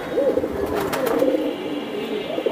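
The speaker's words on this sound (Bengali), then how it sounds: "এটা হচ্ছে ডিপ ব্লু চোখের পাখি কবুতর।" Deep blue eyed pigeon cooing close by, a soft low repeated warbling coo over light background noise.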